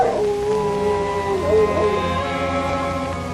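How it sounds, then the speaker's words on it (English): A dog howls in a long wavering cry that rises and falls, loud and close, filling the whole moment with no other sounds over it. "That dog frightens me."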